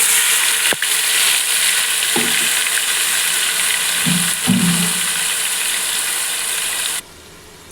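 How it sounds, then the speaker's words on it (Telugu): Onion tomato paste goes into hot oil with mustard seeds, making a constant frying sizzle with a few clunks and spoon scrapes. The sound stops abruptly near the end. "ఆవాలు ఇలా బాగా చిక్కిన తర్వాత ముందుగా మనం పేస్ట్ చేసి పెట్టుకున్నాం కదండి ఆనియన్ టమాటా పేస్ట్ వేసుకోండి"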